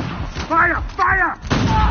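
Gunfire in the video game Uncharted: The Lost Legacy: a few sharp, loud bursts over about two seconds, mixed with someone shouting.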